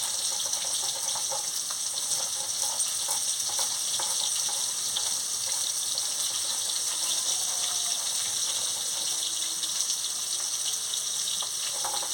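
Pangas fish frying in a pan gives a steady, faint hiss and sizzle with soft crackles throughout, no voices.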